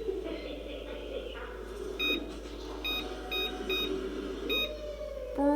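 A series of short electronic beeps from an oven timer being set, spaced irregularly like buttons being pressed, over a humming kitchen background and low talking.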